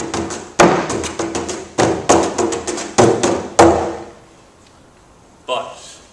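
Bodhrán frame drum struck with bare fingertips and thumbs, no tipper: a run of close, dull thumps in a steady rhythm with quick grace-note taps, stopping about four seconds in, then one last lone hit.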